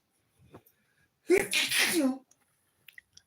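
A single sharp, close sneeze bursts out indoors, preceded by a brief intake of breath and followed by a few faint small noises in an otherwise quiet room.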